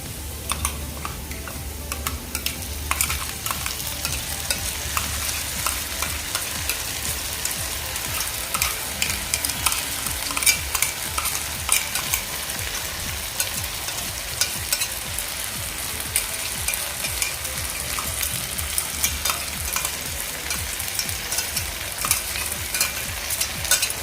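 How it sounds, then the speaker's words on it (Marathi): Ground masala paste sizzling and frying in a pan with fried onions for an egg tawa masala, a steady crackling hiss with constant scraping and stirring, close and continuous without talk. "आता आपण जो मसाला वाटून घेतला होता तो आपण यामध्ये घालूया"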